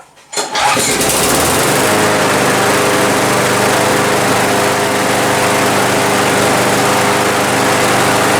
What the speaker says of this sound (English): now we just gotta start up the John Deere.